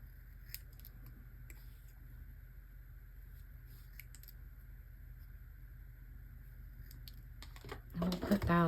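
Scissors trim a stamped paper number down to size for a handmade faux postage stamp, making several soft, quiet snips spaced apart, followed by a louder burst of paper handling at the end.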